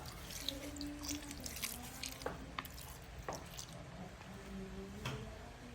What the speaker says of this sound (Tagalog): lagyan na rin natin ng suka.